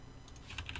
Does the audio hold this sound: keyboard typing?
yes